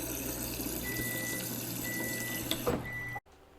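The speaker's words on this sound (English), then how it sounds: "So I refill my Yeti with my second 30 ounces." Water runs steadily into a Yeti bottle being refilled with 30 ounces, a continuous pouring rush that rises slightly in pitch as it fills, then stops abruptly near the end, leaving quiet room tone.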